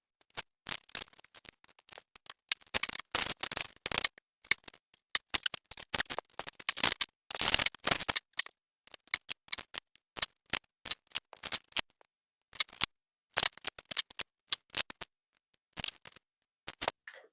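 Tarot cards shuffled and dealt by hand, giving bursts of crisp riffling and soft card slaps in uneven clusters with short pauses, close up and alone without talk.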